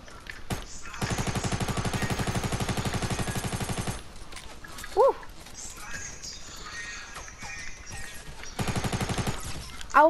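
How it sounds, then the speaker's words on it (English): Rapid bursts of automatic gunfire ring out in a multiplayer shooter video game, loud sustained volleys at the start and again near the end, with a sharp single shot between and a player talking over the action. "Ooh, shooting at me."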